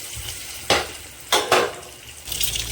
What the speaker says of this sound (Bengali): লাল লাল করে ডিমগুলো ভালো করে ভেজে নেব।